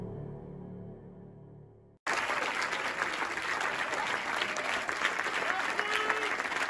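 Dense, steady applause from a large audience at a film screening erupts suddenly and continues without pause, filling the space with warm clapping.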